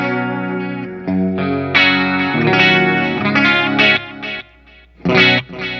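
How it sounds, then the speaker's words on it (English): Clean electric guitar played through a Line 6 Helix with a delay effect, loud bursts of chords and single notes whose repeats trail off between phrases, no voices. "You can hear that delay."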